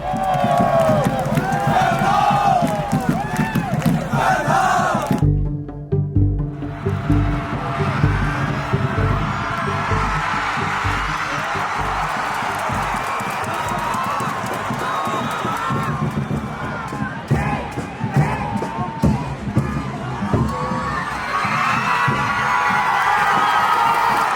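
Muangthong United supporters in the stadium stands, a dense roaring crowd chanting and cheering continuously, loud and unbroken apart from a brief dip, with voices shouting throughout.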